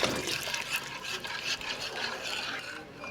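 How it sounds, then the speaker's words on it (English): Coconut milk is poured into a cooking pot for a traditional Trinidadian coo coo, a close, continuous liquid rush and splash with some scraping and rubbing from the pot, with no voices. "We'll add our coconut milk 1 time."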